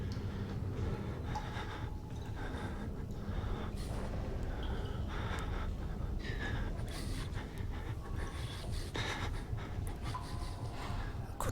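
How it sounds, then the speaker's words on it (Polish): Heavy, rapid panting from a character in the horror game Outlast, steady and close, repeating breaths over a low rumbling background for the whole stretch. "Kurczę, co ty tak dyszysz"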